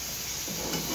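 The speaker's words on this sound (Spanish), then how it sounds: "Se lo sofrío al mondongo." Tripe (mondongo) frying with tomato in a pan gives a steady, close sizzle, broken by stirring scrapes that pick up in the second half.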